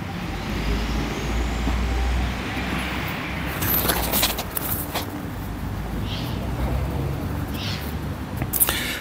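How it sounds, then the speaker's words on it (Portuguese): Tourist group buses arriving in the village of Ein Kerem near Jerusalem, heavy engines rumbling nearby with a few brief hisses and clanks over steady traffic noise. "mais ônibus de grupos de turistas chegando em Jerusalém"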